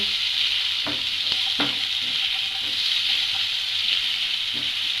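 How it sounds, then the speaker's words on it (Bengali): Chicken sizzles loudly in a pan while two medium onions, chopped green chili and capsicum for momo filling are mixed in, giving steady frying hiss broken by repeated spatula scrapes and knocks. "এবার এর মধ্যে দিয়ে দেব 2 মিডিয়াম সাইজের পেঁয়াজ কুচি, কাঁচা লঙ্কা কুচি এবং ক্যাপসিকাম দিয়ে ভালো করে এটাকে মাখিয়ে নেব"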